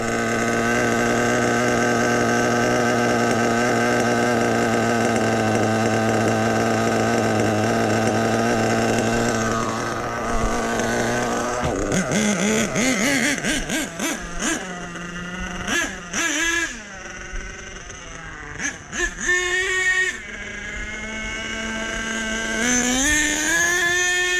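Truck engine held at a steady high-revving drone, then a burst of rapid gear shifts with revs jumping up and down, loud and close, with no talking.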